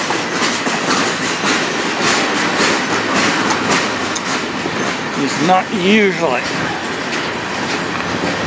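A CN freight train rolls past on track 2 of the Strathroy Subdivision in Sarnia, Ontario, with steady wheel clatter and rumble across the whole stretch and a brief wheel squeal near the end, while someone talks over it.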